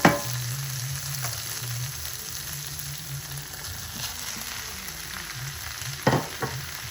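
Potatoes and minced beef fry in a pan with tomatoes, a steady low sizzle broken by scraping stirs and a couple of sharper utensil knocks, close and without talk.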